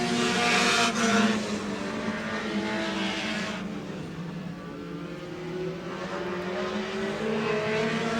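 Stock cars race on a short track speedway at Twin State Speedway in Claremont, New Hampshire, with engines roaring loudly past and then fading into a droning, rising and falling whine of several cars circling farther away.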